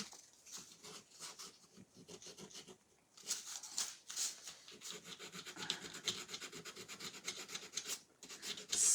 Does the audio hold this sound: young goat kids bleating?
no